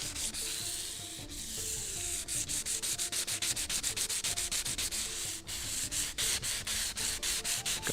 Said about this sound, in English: Most of the sanding at the top is done.